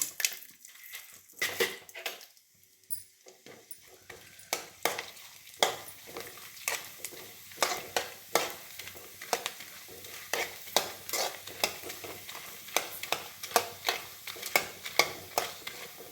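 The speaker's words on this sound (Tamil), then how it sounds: "எப்படி பொரியுது பாருங்க, நல்லா பெருசு பெருசா." Koozh vadakam rice crisps fry and puff in hot oil, giving a steady crackling sizzle broken by repeated sharp pops and scrapes of a ladle, close and fairly loud with no talking.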